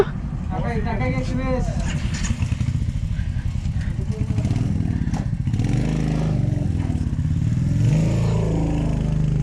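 A motorcycle engine revs and pulls along steadily on a Hyderabad to Goa road ride, a constant close drone running through the clip beneath near-continuous conversation.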